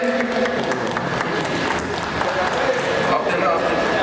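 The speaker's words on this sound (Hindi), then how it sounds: "देव शर्मा जी के लिए एक बार ताली मार दीजिए।" An audience at a gathering bursts into applause, dense overlapping clapping that goes on steadily for a few seconds alongside a busy murmur of voices.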